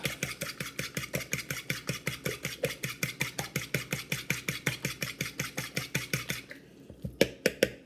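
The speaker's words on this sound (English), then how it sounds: "we're going to add to them the flour, milk, and some salt, which I already did. We're going to whisk those up." Flour, milk and salt whisked in a bowl, a steady run of quick rhythmic scraping clinks close up, about four strokes a second for several seconds, then a pause and a few separate taps against the bowl.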